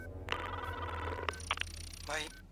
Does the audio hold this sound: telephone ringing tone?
yes